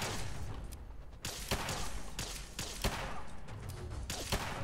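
Dense, continuous gunfire from a new weapon in the video game Fallout 4 rattles on, punctuated by several louder cracking shots over a busy roar of in-game combat.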